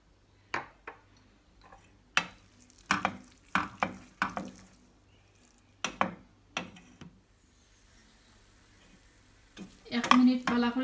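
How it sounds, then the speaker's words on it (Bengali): Ground spices stirred into browned onions in a pan while making spinach shrimp curry: a series of sharp scraping stirs and taps in irregular bursts, with a short sizzle near the end. "এক মিনিট পালা করে লাড়িয়া মশলাটারে খসাইছি"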